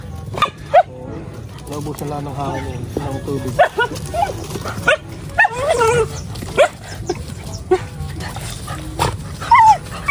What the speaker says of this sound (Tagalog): Ano kaya itong mga aso eh?